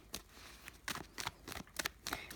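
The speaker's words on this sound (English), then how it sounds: "That was my not very great shuffling, Leo." Tarot cards are shuffled by hand in a quiet room, giving several short, soft riffling and slapping bursts in an uneven rhythm, close and faint, with no speech.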